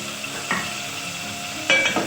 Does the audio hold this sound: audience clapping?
no